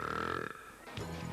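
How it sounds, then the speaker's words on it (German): A long, loud, rasping burp from a burping performer in Berlin, a sustained guttural belch that fades out, followed by a brief lower grunt. "Dieses Rülpsen ist einfach unangenehm."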